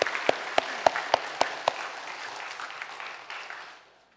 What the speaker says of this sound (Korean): 우리 함께 다 함께 한번 박수하시면서 축복과 격려하시겠습니다